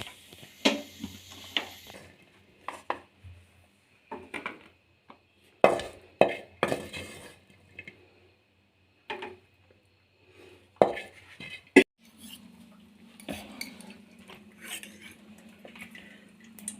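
Scrambled egg being scraped off a pan onto a plate, with metal spatula scrapes and clinks against cookware in sporadic bursts separated by quiet pauses, close and moderately loud.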